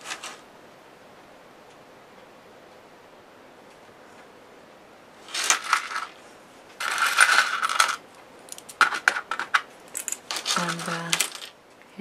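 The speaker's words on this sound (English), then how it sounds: "Here's some charms with some small keys dangling." Small metal charms and tiny keys jingle and clink as they are handled, in several bright bursts of rattling metal separated by quiet pauses, close and fairly loud, with no talking.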